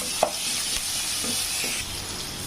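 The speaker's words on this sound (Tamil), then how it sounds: "பச்சை மிளகாய் ரெண்டு ரெண்டு கட் பண்ணியிருக்கேன் அதை இதில் சேர்த்துக்கலாம் நல்லா வதங்கிட்டு" Slit green chillies sauté in a pan for a street-style parotta salna, a steady faint sizzling hiss with a few soft scrapes.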